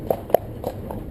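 A horse's hooves clip-clop past on a hard road, three or four distinct sharp strikes fading slightly, heard alone at moderate distance.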